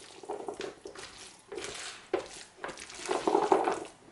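Olivier salad gently stirred in a bowl after peas are added, with soft, intermittent scraping and clinking strokes close by and no talking.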